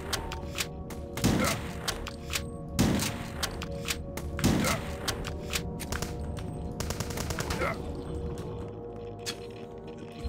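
Turrets firing out of vents in the retro shooter HROT, a string of sharp blasts spaced roughly every one to two seconds amid rattling gunfire and thuds, loud and close over a humming backdrop.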